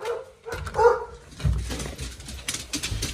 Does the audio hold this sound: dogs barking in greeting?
yes